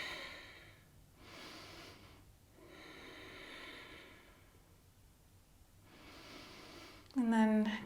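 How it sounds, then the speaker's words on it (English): Slow, deep breathing during a hatha yoga pose, with long soft inhales and exhales rising and falling in an even rhythm, close and quiet, ending in a brief louder sound. "Deep breathing here."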